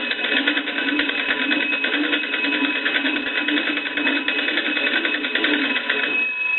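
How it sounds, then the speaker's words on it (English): A Monarch wood wall telephone's bells ring continuously and loudly up close, a steady rapid metallic trill sustained for several seconds before cutting off at the end. "I want to ring the bells for you because they work."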